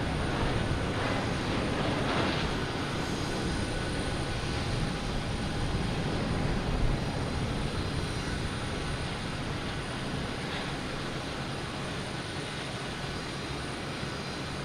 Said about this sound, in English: we have Lufthansa, A340, got clearance for takeoff